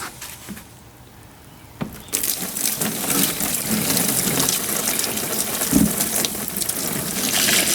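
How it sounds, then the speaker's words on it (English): Water dumped from a bucket onto a dry coir block, a sudden gushing splash that settles into a steady, close rush of pouring and soaking water continuing for several seconds. "we're going to get a shot of what happens to this block when we dump this water on it"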